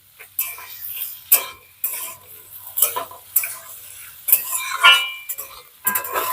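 Spatula scraping and stirring vegetables for sago pulao in a pan in repeated strokes, with a light sizzle of frying between the strokes.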